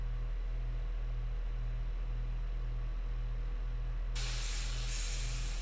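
An airbrush loaded with India ink sprays onto paper, giving a steady soft hiss under a low hum, which swells brighter and louder toward the end.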